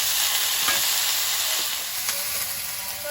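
Vegetables with onion and tomato fry in hot oil in a kadai seasoned with black cumin and bay leaf, producing a loud, continuous close-up sizzle with a few faint stirring taps.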